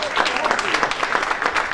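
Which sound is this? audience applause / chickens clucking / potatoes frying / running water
audience applause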